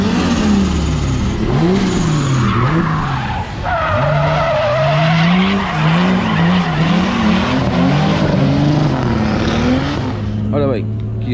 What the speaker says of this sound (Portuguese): o drift está bravo, está muito bravo